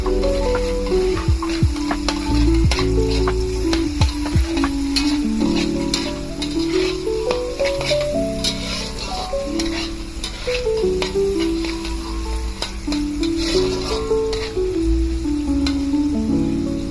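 Noodles and meat stir-fried together in a pan for homemade stir-fried noodles, with a steady close sizzle and frequent scraping, clattering stirs throughout. No one speaks.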